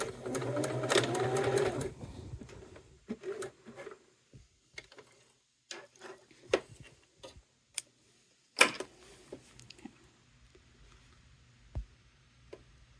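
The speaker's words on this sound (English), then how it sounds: "Go ahead and back stitch." A sewing machine back-stitches through a cork wallet in a short loud burst of rapid stitching. Scattered ticks, clicks and faint handling taps follow at close range with long quiet gaps between them.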